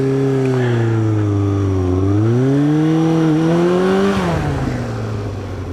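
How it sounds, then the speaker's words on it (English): A motorcycle engine revs and pulls up through the low range, its pitch dipping then climbing and surging again before easing off, loud and close throughout with no one talking. "So I'm going to get the bike up to 30, shouldn't be too hard."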